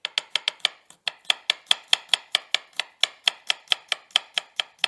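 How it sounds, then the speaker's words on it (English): Garlic being chopped finely with a knife on a board, a close, crisp run of about twenty quick, evenly spaced taps with a brief pause after the first few. "I'm just going to chop it down quite fine."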